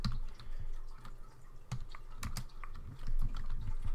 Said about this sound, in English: So let's just type this.